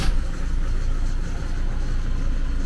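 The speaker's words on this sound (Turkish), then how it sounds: "Şimdi tekrar çalıştırıp motoru böyle boş çalıştıracağım." Camper van engine idling just after being restarted, a steady close rumbling drone at even level with no talking over it.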